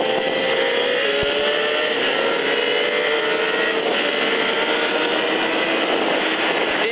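Motorcycle circulating on the Vigeant race track, a steady distant engine whine with a slowly shifting pitch that holds constant for the whole stretch.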